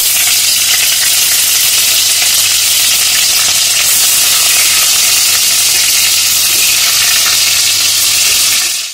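Paneer frying in hot white oil in a pan, a steady loud sizzle with bright crackle running evenly throughout with no break.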